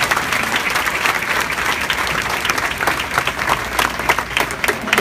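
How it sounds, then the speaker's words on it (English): A gala crowd gives a sustained, loud round of applause, dense continuous clapping with occasional sharper claps and a murmur of voices underneath. "one more big round of applause"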